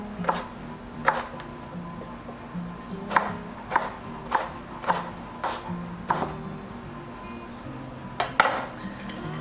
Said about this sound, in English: I'm going to start slicing up some pears.